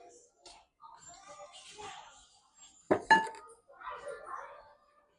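Small ceramic dishes clink and knock together as they are handled on a store shelf, a short pair of bright clatters in the middle, close and moderately loud, while someone talks quietly before and after.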